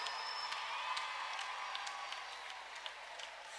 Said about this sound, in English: Let's give another hand clap to these very handsome, spirit-filled bachelors